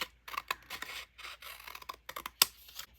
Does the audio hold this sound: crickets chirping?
no